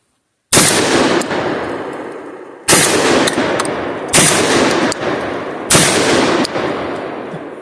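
Four loud, close gunshots from a confiscated gun with a cut-down barrel and no sights, each sharp crack followed by a decaying echo, spaced unevenly by one to two seconds.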